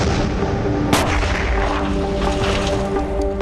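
An explosive blast in a Hitler assassination-plot test (Operation Valkyrie): a loud, sharp boom punches through a dense, continuous roar of noise and stays sustained, with no speech.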